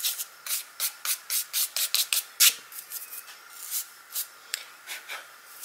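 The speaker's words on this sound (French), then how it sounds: "Je dois avoir un petit pinceau, je vais un peu frotter." A small brush rubs excess paint off a page in a flower-themed art journal, making a close run of quick, dry scrubbing strokes, brisk and regular at first, then sparser and softer.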